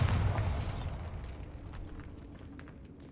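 A Bombarda spell explosion in the video game Hogwarts Legacy, set in a decaying catacomb: a fairly quiet blast at the very start, then a low rumbling tail with faint debris crackles that slowly fades.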